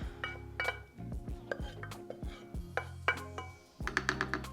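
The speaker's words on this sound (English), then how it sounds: "And give this a stir." Broth with sautéed celery and garlic being stirred in a crock pot, a spoon clinking and knocking repeatedly against the ceramic pot in an irregular rhythm, close and fairly quiet.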